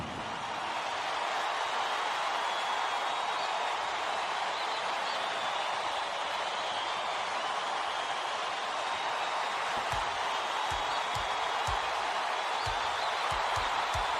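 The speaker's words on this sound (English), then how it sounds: "Just listen to these people. They're going insane." A college basketball video game crowd roars in a steady, loud, broadband wash of cheering and applause that holds unbroken throughout.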